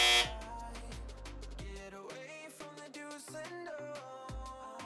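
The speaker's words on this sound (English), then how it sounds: "Buzzer." Series of harsh tonal buzzes and honk-like blasts in quick succession, loud and electronic-sounding, with no voices.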